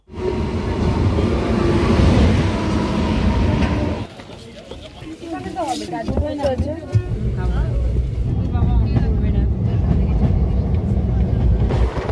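A train bound for Lalbag station rumbles steadily along with a loud, continuous roar that eases briefly before building again, with faint voices mixed in.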